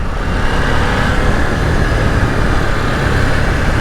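A 2021 KTM 890 Duke R motorcycle pulls hard in third gear, its engine a loud, steady roar blended with heavy rushing wind noise throughout.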